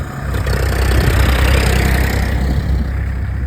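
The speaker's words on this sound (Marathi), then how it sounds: "ते ट्रॅक्टर बघा दोन दोन ट्रॅक्टर" A tractor engine idles loudly nearby, a steady low rumbling chug that holds constant throughout with no talking.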